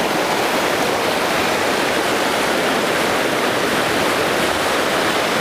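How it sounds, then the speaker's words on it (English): Small waterfall on Stevens Creek beside a bridge, a steady broadband rush of falling water filling the scene, close and continuous with no voices. "what interests me most is this little waterfall right here by the bridge"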